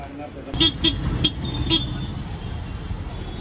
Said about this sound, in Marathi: फुल मजबूत ट्रॅफिक आहे. ट्रॅफिक चांगलं अडकलोय.